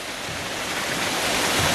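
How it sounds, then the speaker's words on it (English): A waterfall pours in a continuous, full roar of rushing water, close and loud, alone with no voices. "Alright, so we walked to a waterfall."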